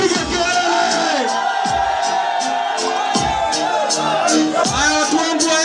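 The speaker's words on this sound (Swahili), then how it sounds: "Watu wangu hata mpige kelele." A crowd of fans at a Yanga and Simba music event yells, whoops and cheers continuously, loud and close, with a voice calling out over the noise.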